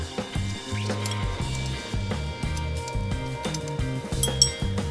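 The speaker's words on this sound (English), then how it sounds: "So I'm going to take the nut off." A ratchet clicks steadily and rhythmically as it loosens the nut on the power steering pump pulley of a 2008 Acura MDX, with faint metallic clinks mixed in.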